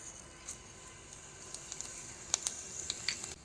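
Whole spices, dried red chillies and bay leaves in hot mustard oil: a faint, soft sizzle with a few small crackles and pops near the end, quiet and alone.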